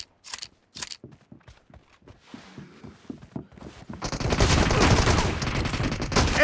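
Shotgun fire in the mobile game BGMI: a few sharp, spaced blasts and clicks at first, then a dense, loud, sustained burst of gunfire to the end.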